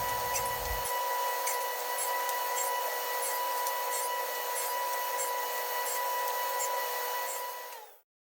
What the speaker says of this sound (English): The next step of the milling process is to cut the strips into segments so I can glue them into rings.